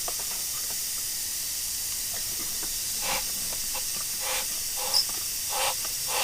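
Steady hiss of soapy water sprayed onto a Mercury 225hp Optimax outboard lower unit to find a leak, a faint continuous spray with soft clicks and brief bursts.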